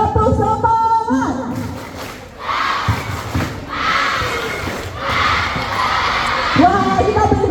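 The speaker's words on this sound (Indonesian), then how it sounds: "kakak mau suara yang paling keras, coba tepuk semangat" Schoolchildren at a police outreach session on bullying and traffic rules shout a loud rhythmic spirit chant in several bursts, while an adult voice speaks before and after.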